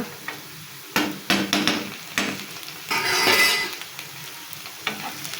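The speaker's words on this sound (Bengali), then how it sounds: "এই রসুন বাটাটা পেঁয়াজের সাথে ভালো করে মিশিয়ে নেড়ে নেড়ে একদম ভালো করে ভাজতে হবে" Garlic paste and onions are stir-fried in a pan: a spatula clacks and scrapes against metal in irregular strokes, with a brief burst of loud sizzling in the middle, close by.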